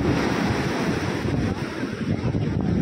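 Sea waves wash onto the beach at Puri in a steady, loud rush of surf, mixed with heavy wind buffeting close to the microphone, with no voices.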